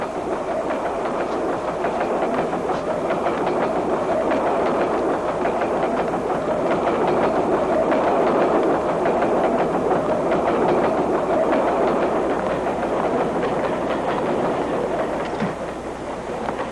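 A train rumbling steadily along the tracks, a continuous loud mechanical roar with faint rhythmic clatter, no voices.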